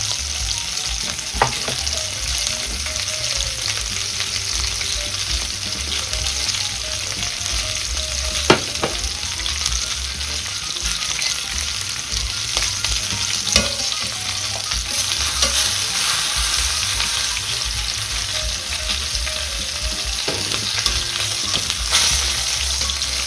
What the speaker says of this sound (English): Now the whole point of this exercise is to sear.